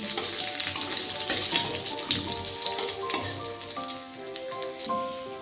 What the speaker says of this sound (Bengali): কাজু বাদামগুলো হালকা ভেজে নিচ্ছি